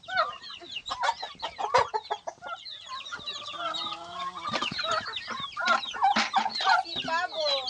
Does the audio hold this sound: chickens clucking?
yes